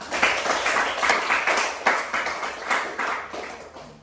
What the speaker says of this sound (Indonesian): Oke, tepuk tangan dulu buat Gila.